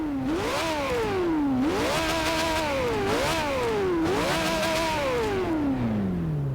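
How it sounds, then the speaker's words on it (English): A powerful V12 supercar engine in Forza Horizon 2 revving repeatedly, pitch sweeping up and down in four surges before a long falling rev, loud and close with no talk. "Beautiful V12 sound there, could do that all day"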